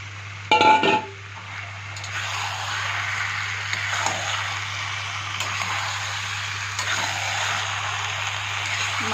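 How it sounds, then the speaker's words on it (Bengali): Mutton goes into a cooking pot for a Bengali kosha dish, with a sharp clatter of metal on metal at the start, then a continuous low sizzle and scattered clinks under a steady hum. "এখন মাংসগুলো দিয়ে দিচ্ছি।"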